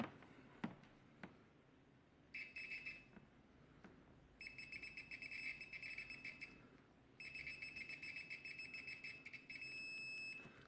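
A TES PROVA903 multimeter on continuity gives faint, steady electronic tones, first in short bursts and then in two longer sustained stretches, over quiet background with a couple of light taps.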